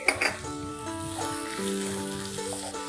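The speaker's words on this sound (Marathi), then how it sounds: "कांदा परतून घ्यायचा आहे व्यवस्थित" Chopped onions sauté in a pan for leafy-vegetable cooking, a steady, moderately loud sizzle that opens with a short clatter of stirring.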